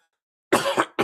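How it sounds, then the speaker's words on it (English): A man coughs and clears his throat close to the microphone during a live radio talk show, two harsh rasping bursts after a moment of silence. "right, I got to clear my throat."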